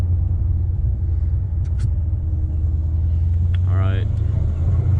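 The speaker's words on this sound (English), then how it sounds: "I'm going to show you guys what the exhaust sounds like whenever I'm cruising down this hill in first gear" A Dodge Challenger ScatPack with long tube headers coasting downhill in first gear, its exhaust a deep, steady low rumble close by, with a brief spoken remark over it.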